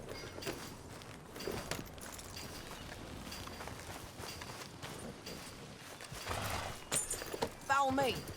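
Horse hooves in the video game Red Dead Redemption 2 clop along steadily in a rhythmic riding gait, fairly close, with other game sounds and a few sharper accents near the end.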